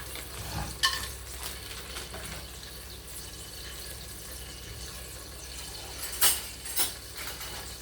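Steady soft sizzling of cashews frying in hot oil, with a couple of sharp clinks of a utensil against the pan.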